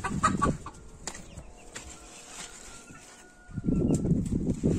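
Hens cluck softly nearby in a coop, with short bursts of louder clucking at the start and end and quieter farmyard noise between.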